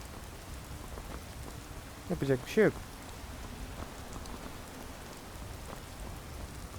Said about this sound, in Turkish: Maalesef yağmur da yağdığı için.